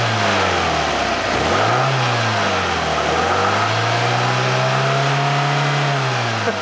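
Fiat Panda 4x4 Sisley engine revving up and down at close range, with a loud continuous drone whose pitch dips, climbs and then holds steady at high revs.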